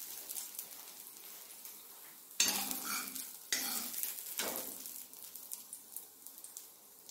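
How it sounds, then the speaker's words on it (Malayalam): Fried onion tempering poured into a spinach and lentil curry sets off sudden loud sizzling and crackling bursts that fade, with stirring noises in a kitchen. "ഉള്ളി മൂത്ത് കഴിഞ്ഞു. നമുക്ക് ഗ്യാസ് ഓഫ് ചെയ്യാൻ ഇത് നമുക്ക് ഈ കറിയിലേക്ക് ഇട്ട് കൊടുക്കാം."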